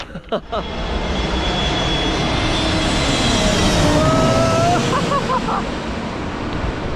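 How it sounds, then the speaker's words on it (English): Low-flying airplanes passing close overhead on Ibiza, a broad roaring engine rumble that swells and fades steadily over several seconds, loud and near, with faint outdoor ambience and no talking. "get some shots of these planes flying just over my head because they come in super low"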